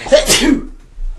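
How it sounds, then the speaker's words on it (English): A single loud, close human sneeze, a sharp burst that quickly fades to quiet, followed by a brief spoken word. "I gotta sneeze again."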